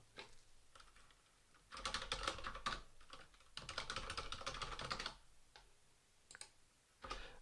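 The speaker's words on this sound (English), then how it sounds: "I will type in my username and password and click sign in." Typing a username and password on a computer keyboard, heard as bursts of rapid, close keystrokes with short pauses between them, no voices present.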